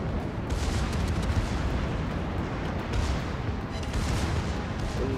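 Naval battle gunfire in a video game, a continuous heavy barrage of low booms and rumbling blasts with occasional sharper bursts layered over one another.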